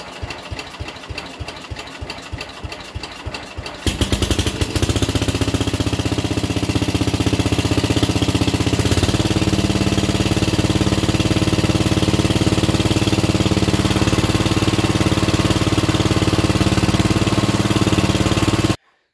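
A 1962 International Cub Cadet tractor engine cranks with rapid rhythmic starter turns, catches and fires up, then settles into a loud, steady close-up idle that runs on until it cuts off abruptly at the end.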